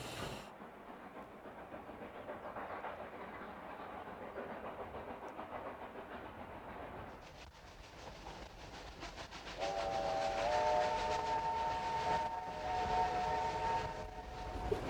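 A heavy steam train with two locomotives rumbles steadily climbing a grade, then a loud steam whistle sounds with sustained harmonic tones near the end, no talking.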